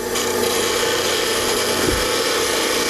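A spindle gouge held against a spinning grinding wheel, giving a loud continuous grinding rasp over a steady motor hum, close and unbroken for a few seconds with no talking.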